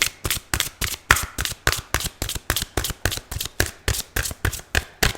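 Tarot cards are shuffled by hand in quick repeated riffles, about twenty sharp crisp bursts in a steady rhythm, close and clear, with no talking over them.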